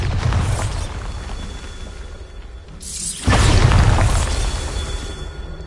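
A Bombarda blasting spell in the Hogwarts Legacy video game goes off as a loud, close, booming explosion with a rushing blast that swells after a short lull and slowly fades over a rumbling background.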